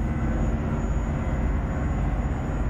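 A Detroit Diesel Series 71 truck engine in American Truck Simulator gives a steady, loud, low rumbling drone while cruising at speed, unbroken and with no talk over it.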